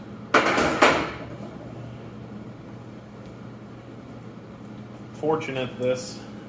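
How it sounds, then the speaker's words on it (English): A 24-inch pry bar works a brake drum loose on a Case 310G tractor under restoration. Two sharp metallic clanks land near the start, followed after a quiet stretch by a short ringing, scraping metal rattle. "Then I have the 24-inch pry bar. Find a good spot. Pop that loose."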